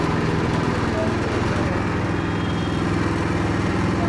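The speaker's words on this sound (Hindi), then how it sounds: "इस तरह हम दूसरा गियर लगाएंगे, दूसरा गियर है, अब ये चलेगा ऐसे" BCS 8HP mini rotavator tiller running in second gear, a close, loud, steady chugging engine putter with an even rhythm throughout and no talking.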